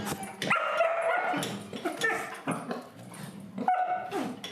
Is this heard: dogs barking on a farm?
yes